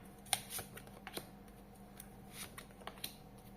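Soft, quiet tarot card handling with light snaps and flicks scattered over a faint background hiss, no voices.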